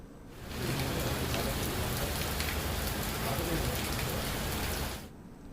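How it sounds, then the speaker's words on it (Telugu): Heavy rain mixed with hail pours down in Hyderabad, a dense, steady roaring hiss that sets in sharply and holds evenly for about four and a half seconds before cutting off. "ఎర్రటి ఎండలో వడగండ్ల వాన కురుస్తుండడంతో హైదరాబాద్ నగరం అల్లకల్లోలంగా మారింది"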